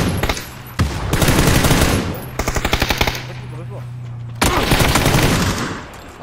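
Rapid bursts of automatic gunfire from a shooter video game, with a long sustained volley and several shorter rattling strings of shots, loud and close, with faint voices in the background.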